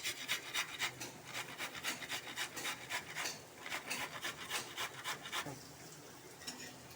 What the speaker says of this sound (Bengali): এই টমেটোটাকে ঘষে নিয়েছি